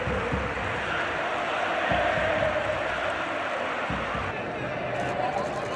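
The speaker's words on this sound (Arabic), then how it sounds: "شوفوا الجماهير بره بتعمل ايه" Atletico Madrid football fans gathered outside make a steady, dense crowd roar that runs unbroken throughout.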